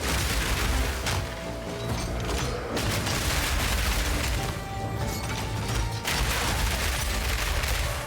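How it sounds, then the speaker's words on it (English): Grenade-throwing turrets in Path of Exile 2 unleashing rapid volleys of explosions, loud overlapping booms and crackling blasts that pile up continuously, with a brief dip in the barrage and no talking. "These things throw grenades out like crazy. See? And they just spread out all over the place."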